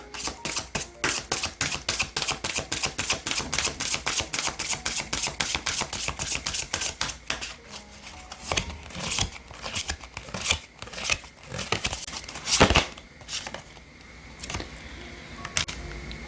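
Oracle cards being shuffled and drawn for a tarot reading: a fast, even run of crisp clicking flutters, then slower, irregular taps and slides as a single card is handled, close and clear, with no speech.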